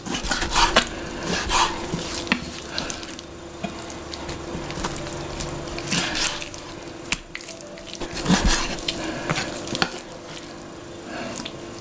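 Duck meat and skin are chopped for larb in a kitchen. Irregular knife thuds on a board come sharp and close, in bursts with short pauses, and faint clatter sits between the strikes.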